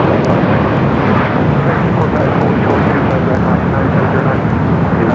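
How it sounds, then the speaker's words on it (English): A KLM Boeing 787-10 Dreamliner in 100-year livery arriving from Amsterdam at Los Angeles airport, a loud, steady broadband jet roar filling the whole stretch without letting up. "787-10 Dreamliner coming from Amsterdam."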